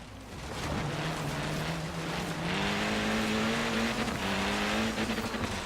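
A race car engine in the video game Forza Horizon 3 drones continuously and loudly, its pitch climbing gradually as it accelerates, with no speech over it.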